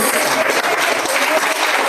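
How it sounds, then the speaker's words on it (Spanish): Loud, dense applause fills a church during a Spanish-language worship service, a continuous roar of many hands clapping together. "vamos a darle un fuerte aplauso al que vive para siempre."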